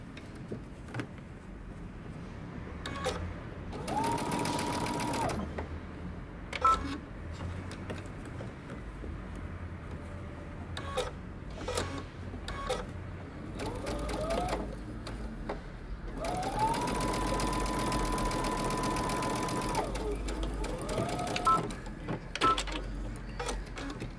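A sewing machine stitches a mini hoodie in several bursts, its motor whirring in steady runs of a few seconds, separated by pauses with small handling clicks and knocks of fabric being repositioned.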